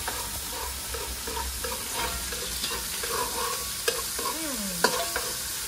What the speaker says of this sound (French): Petits oignons là. Qui dansent bien dans l'huile.